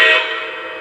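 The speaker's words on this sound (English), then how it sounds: "Whistle tells us that we've left sequence mode." A Lionel Legacy 4-12-2 three-cylinder model locomotive sounds its whistle in one loud, steady, bright tone that fades slightly over under a second, with no talking.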